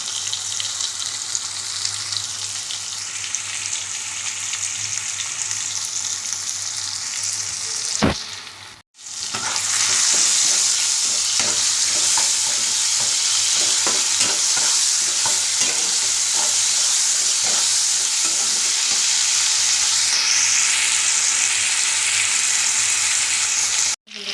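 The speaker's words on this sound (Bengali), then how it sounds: "এবার আদা রসুনের পেস্টটা দিয়ে দেবো। একটু নাড়াতে থাকবে।" Ginger garlic paste fries in a hot pan while being stirred, making a loud, continuous sizzle with spatula scrapes throughout and one brief gap partway through.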